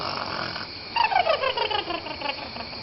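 A storyteller's voice imitates a mother's loud snoring at a storytelling event, a drawn-out raspy rattling snore repeated in short pulses over steady background hiss.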